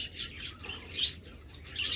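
Small birds chirp around a large water bowl set out for birds and dogs in a rural Bengali home yard, with repeated high tweets in short bursts close by and a low background rumble.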